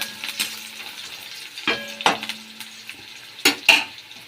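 Food frying in a pan while cooking spinach and egg curry at home, with a soft continuous sizzle broken by several sharp clinks and scrapes of a utensil against the pan, close and clear with no talking.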